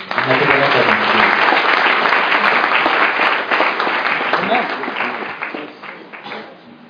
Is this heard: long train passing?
no